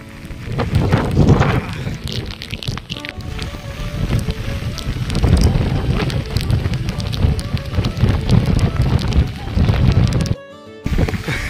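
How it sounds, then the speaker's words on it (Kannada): Strong monsoon wind roars across misty hilltops with wind turbines nearby, buffeting loudly and gusting unevenly, with a brief drop near the end. "ಗಾಳಿ ಜೋರಾಗಿ ಬೀಸ್ತಾ ಇದೆ"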